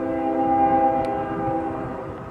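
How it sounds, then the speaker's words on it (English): A train horn sounds as a sustained, steady chord that stays fairly loud and close throughout, with a low rumble of rolling rail traffic underneath. "Oh, but the train is coming. See, you may not see it, but you hear it."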